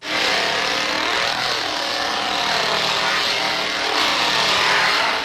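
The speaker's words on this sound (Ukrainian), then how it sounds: "Під її фінальні крики шизи Лезерфейс видає фірмовий танець із бензопилою." A loud chainsaw in the film The Texas Chain Saw Massacre roars continuously close by, its engine pitch rising and falling in sweeping revs.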